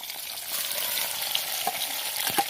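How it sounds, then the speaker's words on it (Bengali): Boiled eggs fry in hot oil in a karahi, a continuous close crackling sizzle with small pops and stirring clicks, no voices. "আমার তেল গরম হয়ে গেছে, ডিমগুলো ভেজে নিব"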